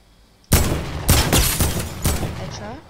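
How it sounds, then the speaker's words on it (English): Gunshots in Fortnite break out suddenly after a quiet moment: a loud sharp burst followed by several more heavy shots in quick succession, close and booming, with a voice faintly present. "I shot."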